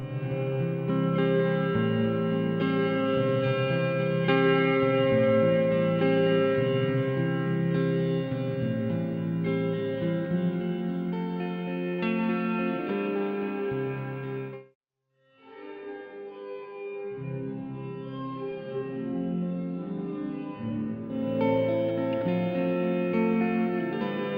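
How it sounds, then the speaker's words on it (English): Electric guitar played through a printed reverb effect: sustained chords ring with a wide, washy tail, briefly cut to silence midway before the playing resumes, with no voices. "So we're starting with the printed reverb."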